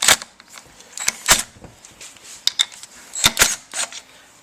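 Sharp metallic ratchet clicks in quick clusters, close and distinct, as four 10mm bolts are loosened on a Honda 300 Fourtrax clutch cover, with short pauses between bursts and no talk.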